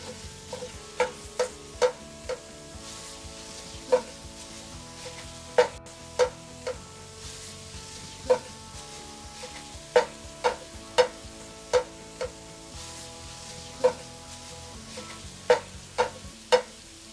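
Ground beef sizzling in a Dutch oven at a Texas backyard BBQ while a utensil chops it into small pieces, with sharp clinks and knocks scattered over a steady low fry.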